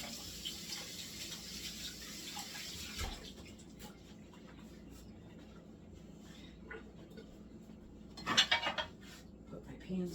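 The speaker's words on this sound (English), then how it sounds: "I'm going to rinse my hand off." Water runs from a kitchen tap as hands are rinsed at the sink, a low steady flow with a few clattering clinks of dishes and cutlery.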